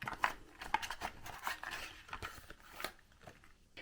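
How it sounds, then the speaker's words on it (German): A plastic bag crinkles and rustles in irregular bursts while darts are unpacked from it, close and fairly quiet, fading toward the end. "bevor die Tüte zu sehr knistert"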